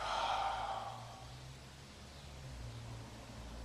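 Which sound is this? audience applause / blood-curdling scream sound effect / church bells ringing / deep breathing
deep breathing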